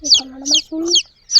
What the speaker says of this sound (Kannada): ಕೋಳಿ ಕೋಳಿ